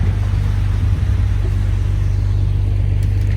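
A concrete mixer truck's diesel engine rumbles loud and close with a deep, continuous low drone while concrete is poured into building columns.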